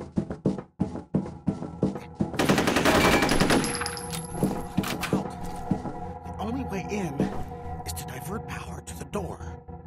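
Rapid automatic gunfire from the shooter video game F.E.A.R., with dense bursts of shots rattling for several seconds amid game noise and a voice.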